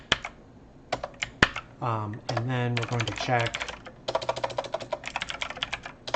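Quick bursts of typing on a computer keyboard during a late-night game development stream, clattering keystrokes in uneven runs around and under a man's speech.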